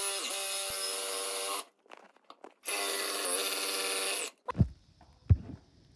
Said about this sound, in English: I've decided to go to a little Sawzall method here.